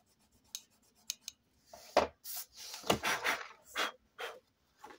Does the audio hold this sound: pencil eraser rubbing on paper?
yes